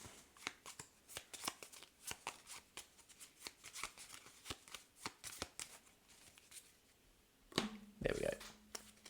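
A deck of playing cards riffle-shuffled at a board game table, giving a steady run of crisp flicking bursts in rapid rhythm, close and fairly loud, ending with a few sharper snaps and a brief thud.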